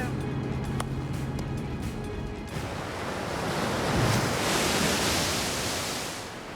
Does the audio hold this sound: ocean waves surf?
yes